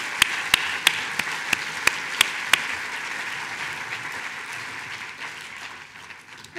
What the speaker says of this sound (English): let's applaud them once again.